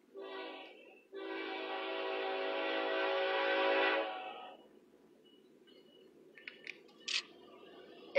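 An eastbound Union Pacific intermodal freight train led by locomotive 8990 sounds a long, loud horn blast, after which the sound fades into quiet rumble with a few faint clicks.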